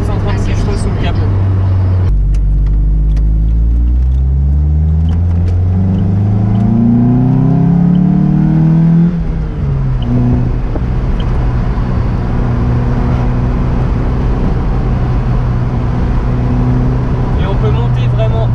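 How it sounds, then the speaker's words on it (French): Lotus Elise sports car with a 136-horsepower engine revving hard on winding roads, pitch climbing steadily through a long high-rev pull before easing off into a steady cruising drone, loud and close, with some talk over it. "Et on peut monter vraiment haut dans les tours."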